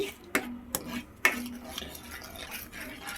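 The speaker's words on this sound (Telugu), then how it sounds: "సో చక్కగా తిప్పుకుంటూ ఇలా కలిపేసుకుందామండి" A spoon stirs sugar into homemade tomato sauce in a pot, a few sharp clinks against the metal rim, then softer scraping and swirling, close and fairly quiet.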